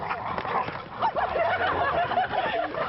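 Several sled dogs bark and yip excitedly in quick, overlapping bursts on snow, fairly close, with a busy noisy background.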